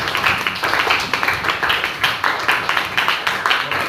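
Pupils in a sixth-grade classroom clap together in a quick, even rhythm, the claps close and fairly loud throughout.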